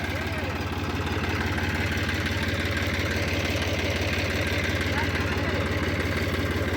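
Tractor engine running in a farm field while ploughing, a steady, rhythmic diesel chugging idle held close and loud throughout, with no talk.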